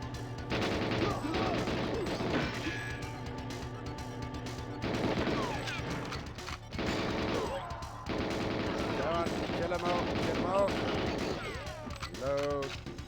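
Gunfire in GoldenEye 007 appears as repeated sharp shots and bursts inside a dense, loud game soundtrack with music, and a voice talks over much of it.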